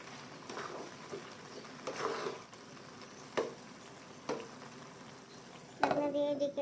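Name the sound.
stirring khude rice in a pan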